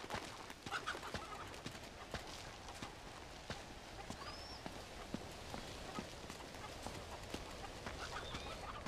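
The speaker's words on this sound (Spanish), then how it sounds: "nada, solo gallinas" Chickens cluck faintly in the video game Uncharted 2 over a quiet outdoor ambience, with scattered soft clicks and footstep-like taps, and a brief birdlike chirp partway through.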